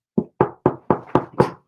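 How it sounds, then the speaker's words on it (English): Six firm knocks on a door, evenly spaced and close, with short silent gaps between each rap. "Oh, someone's at the door."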